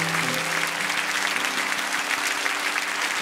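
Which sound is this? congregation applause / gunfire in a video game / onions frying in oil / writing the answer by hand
congregation applause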